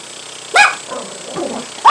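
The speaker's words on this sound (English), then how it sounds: "What are you barking at" Two sharp, fairly close barks from a female dog, one early and one at the end, with softer whimpering or vocal sounds between them.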